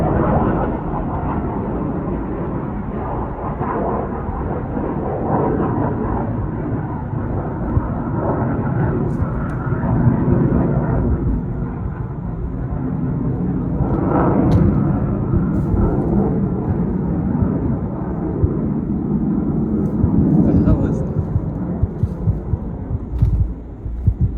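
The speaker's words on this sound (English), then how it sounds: "The plane is just echoing across the valley because I'm in a big mountainous area." A steady, low aircraft drone from a plane flying over a mountain valley rolls on without a break, echoing broadly across the valley, swelling slightly at moments.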